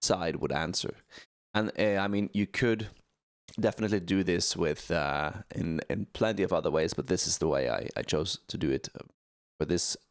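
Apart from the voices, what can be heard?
No everyday noises stand out.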